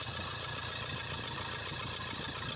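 A Toyota Fortuner diesel engine that had refused to start idles steadily and close by as its injectors are bled of air, a continuous, even mechanical drone with no talking.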